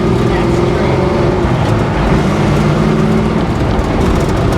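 A 1971 Chevy Nova cruises down the road, its engine and road rumble a steady, loud drone from inside the car, with voices talking over it.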